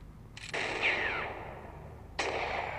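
Sniper rifle shots in the mobile game Bullet Strike: Sniper, two sharp loud reports about a second and a half apart, the first trailing into a brief ringing decay.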